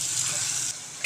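Spices frying in a pan for buttermilk sambar (majjige saaru), a short steady sizzle with stirring that dips slightly partway through, heard close with no talking.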